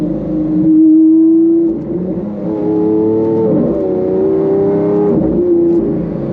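A Lamborghini Aventador LP 700-4 accelerates from inside the cabin. The loud engine drone climbs in pitch, drops sharply at each quick gear shift, then rises again.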